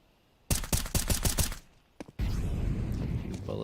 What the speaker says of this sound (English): Bullets rattled off there by Fang into the smoke.